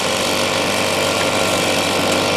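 Heavy machine scraping dry caliche ground at a desert gold-mining site, a steady loud engine drone with grinding, rumbling texture throughout, no voices.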